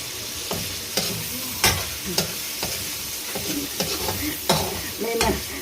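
Chicken liver goes into a hot pan and fries while being stirred, with steady sizzling and repeated sharp spatula scrapes and clanks at an uneven rhythm, close and fairly loud, and no one talking.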